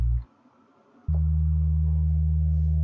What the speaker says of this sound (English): simple sine wave, but it's pretty low